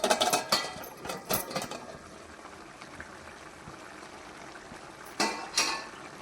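A spoon stirs palak chicken in a pot, cooked with no water added, only the juices from the chicken and spinach. Short bursts of clattering and scraping come at the start and again near the end, with a quiet simmer in between.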